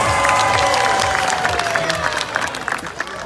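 A crowd at an aquarium sea lion show applauds, a moderately loud, steady patter of clapping with some cheering mixed in, while a tonal whistle-like sound glides over it.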